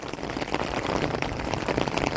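Steady rain pours down in a village, a dense, even hiss of drops hitting surfaces and an umbrella nearby, continuous and fairly loud with no voices.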